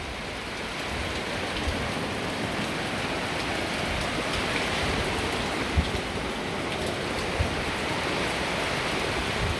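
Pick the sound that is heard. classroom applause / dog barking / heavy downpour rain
heavy downpour rain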